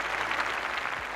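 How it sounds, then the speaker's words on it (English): Steady crowd clapping fills the space at a beauty pageant event, a dense, even patter of many hands continuing without a break. "let's have a huge round of applause for all our sponsors and experts"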